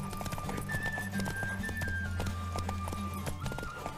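Galloping horse hooves in The Witcher 3 video game, a quick repeated clip-clop over a steady hum of game music and ambience.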